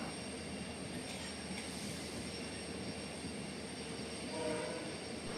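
Guruvayur Express train running between Madurai and Sengottai, a steady, moderately quiet rumble of the moving train heard from inside, continuous and even with a faint high whine, no voices.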